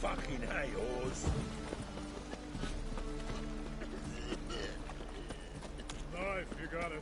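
Horse hooves clip-clopping at a run in the Witcher 3 video game, a steady galloping rhythm under game music and effects, with a voice speaking over it.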